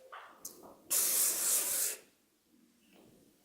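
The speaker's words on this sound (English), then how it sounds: "And then I go around and spray the rest of it" Hairspray mists onto hair for about a second in one steady, close, loud hiss, with quieter rustling and handling noises before and after.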